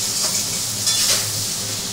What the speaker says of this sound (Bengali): সবজিটা একটু ভাজা ভাজা হবে